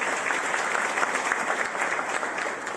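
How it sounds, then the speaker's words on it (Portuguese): A church congregation applauds warmly during a sermon, a continuous wash of many hands clapping at moderate volume that eases off slightly toward the end. "vamos dar uma salva de palmas para esse texto"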